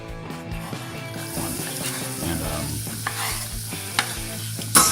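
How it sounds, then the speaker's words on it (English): Oil hits a preheated cast iron pot and sizzles steadily, with scraping and clinking of a utensil against the metal throughout, close and moderately loud. "I've got the pot already heated. I'm going to put the oil in"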